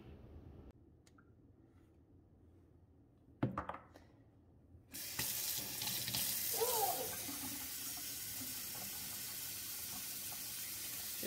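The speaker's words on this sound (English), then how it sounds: "Just going to continue to wash out the pad until it starts to run clean." Tap water running over Epson printer ink pads as ink is rinsed out, starting with quiet handling and a brief clatter before a loud, steady stream of water takes over for the rest.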